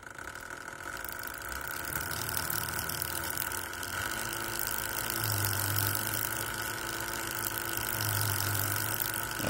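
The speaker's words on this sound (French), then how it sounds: "Alors on entend bien la chaîne forcée." A Yamaha TDR 125 R motorcycle engine runs in first gear with a strained chain, a steady mechanical drone with a low hum that swells twice, heard close and alone.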